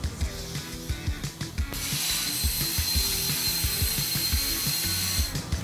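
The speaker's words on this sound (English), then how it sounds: "Now let's see the same cutting operation, only this time using True Bevel technology." A cutting machine runs a bevel cut with True Bevel technology, a steady mechanical whir with rapid repeated clicking and ratcheting pulses, shifting to a brighter continuous hiss partway through, fairly close with no talk.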